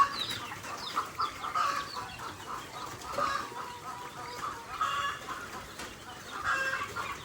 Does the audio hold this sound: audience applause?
no